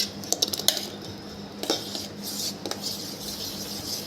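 A spoon scrapes and clinks against a bowl while melon pulp is stirred into milk for a melon milkshake with falooda, a few quick metallic taps near the start and another short cluster later, close and fairly quiet.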